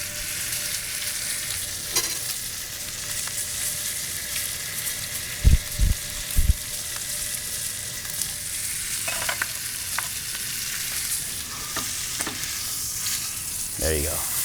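A steak stood on its fat side against the edge of a hot pan sizzles steadily throughout, a dense even frying hiss with a few brief clinks partway through and no talk.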